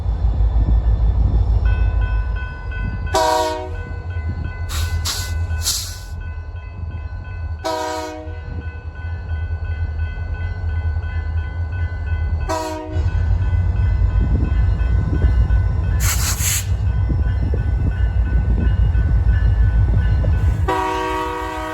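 A freight train led by a 1979 Colorado and Southern-built locomotive rumbles past steadily in Willmar, Minnesota, with heavy low engine noise, while its horn blares in several separate blasts, some short and one longer near the end.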